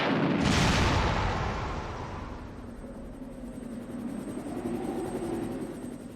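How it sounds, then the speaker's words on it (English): A bazooka blast in Resident Evil 1 on PlayStation: a loud, sudden explosive boom that bursts at the start, then rumbles and decays into a long, low roar. "holds it to her shoulder, and we get the most cinematic explosion I've seen on a PlayStation"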